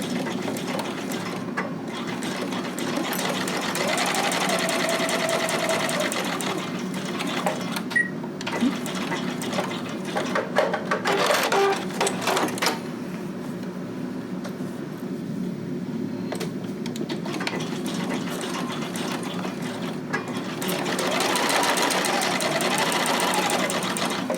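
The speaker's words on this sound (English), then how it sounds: "we're going to sew the front and the back right sides together at the side seams. I'm going to still use a straight stitch." A sewing machine runs a straight stitch along garment side seams, whirring in long, rapid, mechanical runs with brief pauses. It is heard close up, with a voice talking in the background.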